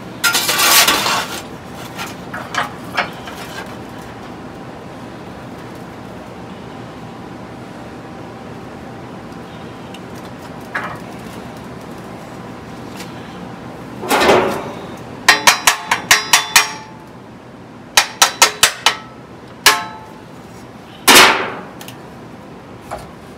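Sheet metal for a 1970 Challenger floor pan being bent on a metal brake, a few sharp metallic clanks and bangs spread out over quiet stretches, with a cluster of quick loud knocks toward the end.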